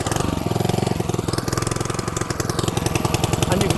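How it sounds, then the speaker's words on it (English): A small petrol engine on an Allett Classic mower runs steadily nearby, a loud, fast, even chugging rhythm with no talking. "The process for starting the engine is to switch it on right at the very front"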